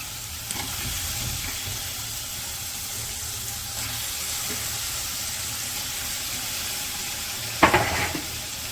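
Beef pieces frying in a pan of spiced masala make a steady, moderately loud sizzle that runs throughout, with a brief sharper burst of spatter and clatter near the end; no one speaks.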